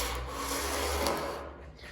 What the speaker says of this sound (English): Take a hard block with your 80 grit or whatever you got on there, and go at the peak of your body line